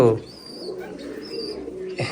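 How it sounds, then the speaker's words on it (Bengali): A double-crested Lotan pigeon coos softly in a low, continuous murmur through a pigeon loft, with faint chirps from other birds around it and people talking nearby. "এটা লটন কবুতর"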